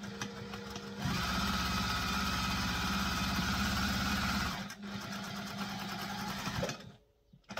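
A sewing machine stitches a zipper onto fabric in a steady mechanical whir that starts after a second and runs about three and a half seconds, then eases off into quieter handling noise and a brief lull.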